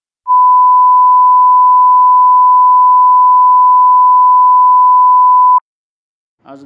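A steady pure test tone plays through a phone's receiver during a hardware check, a single loud unbroken beep of about five seconds that cuts off sharply, followed by a brief moment of faint speech.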